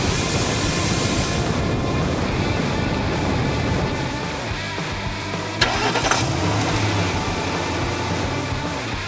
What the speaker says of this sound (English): Flare, the brave fire truck, is rushing to the scene